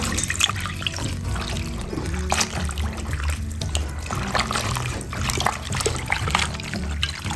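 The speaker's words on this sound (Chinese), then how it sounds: "倒上水再洗一遍。" Water trickling and sloshing over chopped baby cabbage as the salted pieces are rinsed for a cold dressed salad, a steady, close, continuous wash with small splashes and no voices.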